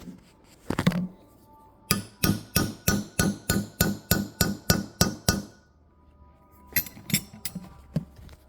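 A hammer taps on metal, seating Tick Performance TP660 valve springs on stock 243 cylinder heads, in a quick run of about a dozen evenly spaced, ringing strikes, then a pause and a few more blows, close by.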